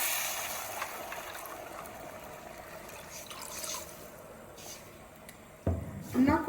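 Water poured into a pot of Mexican rice already simmering with V8 juice and chicken bouillon, a steady hissing, sizzling rush under a quiet room, ending with louder splashing and clatter near the end.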